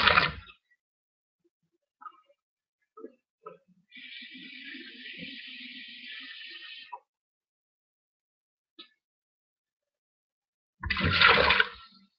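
Water pours into a pan of simmering basa fish curry in a home kitchen, a steady splashing hiss lasting a few seconds between brief clinks and short bursts of speech.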